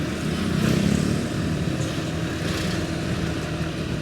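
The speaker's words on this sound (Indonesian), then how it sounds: "Jadi banyak mobil-mobil keluar dari sini nih, mobil, motor." Cars and motorcycles move through traffic at a small intersection on Jl Muchtar Sawangan, a continuous blend of engine drone and road noise, loud and close, with no single vehicle standing out.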